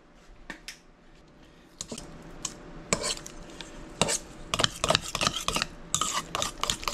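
A spoon stirs lasagna filling with eggs and parsley flakes in a bowl, starting with a few sparse scrapes and building into busy, close clinking and scraping against the bowl.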